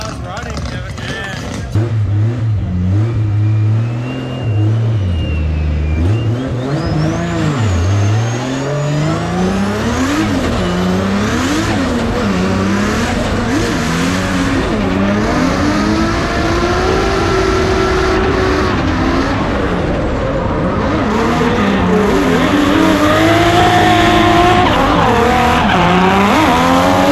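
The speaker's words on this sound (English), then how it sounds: "The car's running." A race car revs hard through a qualifying run, engine pitch sweeping up and down through gear changes with tire squeal, loud and close throughout as people talk over it.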